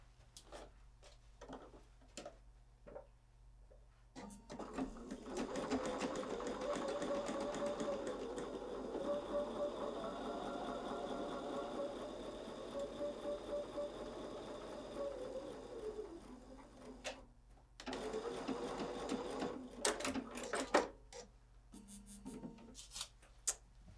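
A sewing machine stitches a quilt block in a steady, fast whirring run of about twelve seconds, bracketed by quiet clicks and fabric handling before and after.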